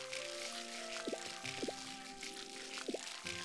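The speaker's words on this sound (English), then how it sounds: "I know the watering can is full. I watered it." Watering crops with a watering can in Harvest Moon: Light of Hope gives soft, quiet gurgling pours and chirpy descending drip tones, three short splashes spaced over a steady game backdrop.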